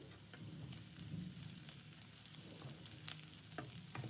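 Chopped garlic fries with curry leaves and two green chillies in a pan for tomato curry, a faint, steady crackling sizzle with a few small pops.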